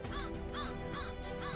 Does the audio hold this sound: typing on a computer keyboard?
no